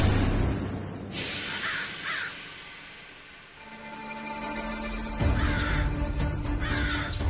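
A crow caws repeatedly in loud harsh bursts, first a cluster of calls, then a pause and another run of caws later, close by and alone without any talk.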